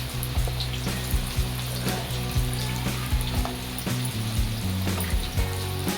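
Onion sautéing in oil with caraway seeds and a piece of cinnamon for a traditional black peas curry: a steady close frying sizzle with light crackles, plus recurring low knocks and a hum underneath.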